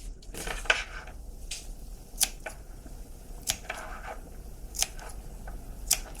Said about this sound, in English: Then we also want to snip all the curves